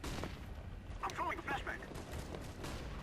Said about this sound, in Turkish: Aa kendi adamını vurdu